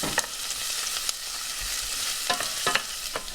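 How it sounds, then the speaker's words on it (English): Onions frying in warm oil, a close, bright sizzle with several sharp scrapes and clicks of stirring scattered through, no talking. "Now that the oil is warm, we're going to fry up our onions."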